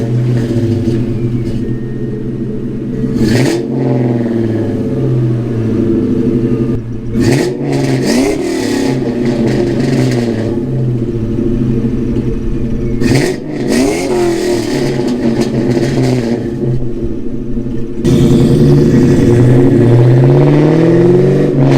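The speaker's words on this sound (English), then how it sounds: "right now I'm gonna show you guys the stock intake manifold with the OffRoad Xpipe first, exhaust clips of that" Deep, loud exhaust rumbling at idle from a new-generation Ford Mustang GT V8 with stock intake manifold and off-road X-pipe, punctuated by several sharp revs that rise and fall back, recorded up close.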